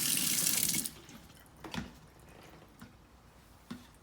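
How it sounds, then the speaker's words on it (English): Running water from an automatic dispenser at a bathroom sink as hands are washed with foaming hand wash, a strong rushing burst at first, then a few soft squishy splashes and drips, with no talking. "Can you show our viewers how you wash your hands with this first?"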